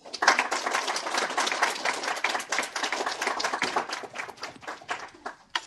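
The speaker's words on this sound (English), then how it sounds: "let's give her a round of applause" Conference audience applauding a speaker at a data science meetup, a dense, steady patter of many hands clapping in a room, starting strong and gradually thinning out toward the end.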